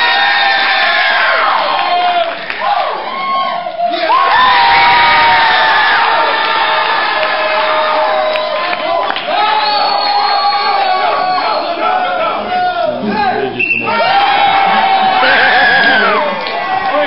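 A loud audience at an improv comedy show cheers and whoops continuously, voices shouting and hollering together, with swells of excitement rising and falling throughout.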